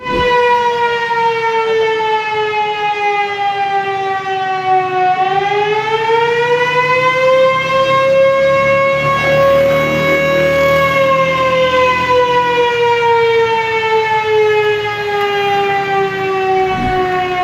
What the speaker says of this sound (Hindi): इस वक्त इमरजेंसी सायरन बजना शुरू हो चुके हैं।